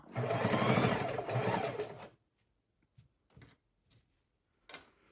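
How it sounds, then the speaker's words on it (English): Sewing machine stitching fabric snippets into a roll: a loud, close, rapid whir lasts about two seconds, then stops, followed by a few soft clicks and handling taps. "sew straight for another 1 inch or 2 as you get them all hooked down"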